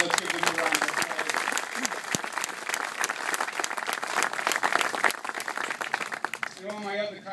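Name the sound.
applause for former county executives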